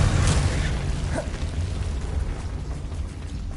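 A Confringo fire spell blast goes off in Hogwarts Legacy gameplay: a loud, dense rumbling boom that rolls on and slowly fades over a few seconds.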